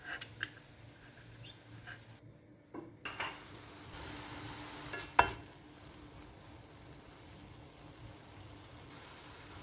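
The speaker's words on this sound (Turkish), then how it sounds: "havuçları biraz karıştırdım" A utensil stirs chopped carrots in a pan, giving faint scraping and occasional sharp clinks against the metal over a low sizzle, with no talking.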